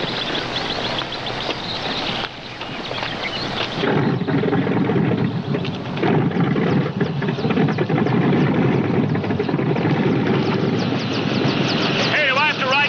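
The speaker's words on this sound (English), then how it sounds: "Warm up the copter." A helicopter engine warms up at a highway patrol scene: a steady whining, thrumming drone builds and holds loud and close, while voices talk over it.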